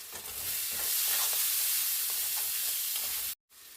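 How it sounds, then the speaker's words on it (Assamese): Spices including meat masala and cumin-coriander powder fry in a pan for aloo dum, a loud, close, continuous sizzle with soft stirring scrapes, ending in a sudden cut. "এতিয়া এইখিনি অকণমান দেৰি ভাজি থাকিম।"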